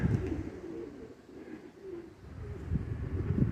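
Pigeons at a pigeon show coo in low repeated murmurs amid soft wing flutters, fairly close and steady with rising bursts of activity near the end.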